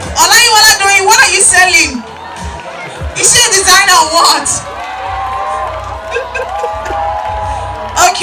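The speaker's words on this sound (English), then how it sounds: "Give it up for Olayiwola Doyin" A lively crowd at a university class event cheers, whoops and shouts in bursts that rise and fall over several seconds. An amplified host's voice speaks through the noise close up.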